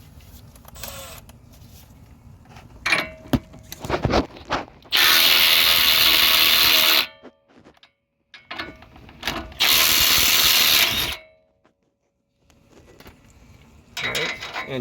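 A nut is removed from a sway bar end link on a 2019 Ford Explorer with a wrench and power driver, giving ratcheting clicks, then two loud, sustained whirring bursts separated by a pause, with a voice speaking briefly.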